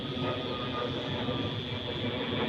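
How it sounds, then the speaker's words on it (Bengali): A train passes near a tea garden, a steady broadband rail rumble of wheels and cars running continuously at moderate distance with no clear breaks. "ট্রেন পার হচ্ছে"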